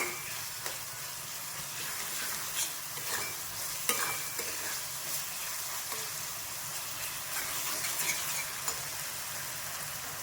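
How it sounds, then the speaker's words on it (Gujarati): Tomatoes go into spices sizzling in a pan for green onion and tomato shak, a continuous close hiss like light rain with occasional spoon taps and stirring, no speech. "મસાલા બધા સતરાઈ જાય એટલે એની અંદર આપણે ટામેટાં નાખીશું"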